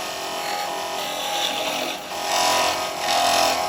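A wood lathe spins a small vase while a carbide chisel cuts into it, making a close, continuous rough scraping and grinding that surges and dips as the tool bites, with no talk.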